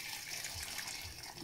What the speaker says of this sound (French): Voilà, je rajoute de l'eau.